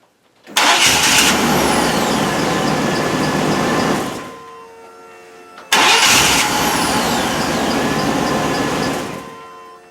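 A 1998 Chevy K1500 pickup engine starts with a newly replaced starter motor, catching quickly and idling loudly, then cutting off and starting a second time before settling into a steady running idle.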